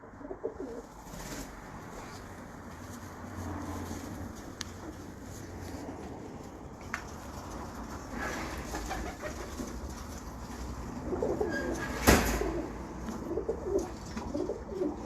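Pigeons kept by a breeder coo softly in repeated low phrases, fairly close, over a light background hum with a few faint chirps and one sharp clack near the end.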